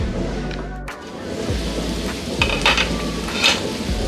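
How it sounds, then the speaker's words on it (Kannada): Masala radish stir fry cooks in a pan with a soft, steady sizzle, broken by occasional close spatula scrapes and stirring clatter. "ಈ ರೀತಿ ಮಿಕ್ಸ್ ಮಾಡಿಕೊಂಡು ಒಂದೆರಡು ನಿಮಿಷ ಇದನ್ನು ಇದೇ ರೀತಿ ಬೇಯೋದಕ್ಕೆ ಬಿಡೋಣ."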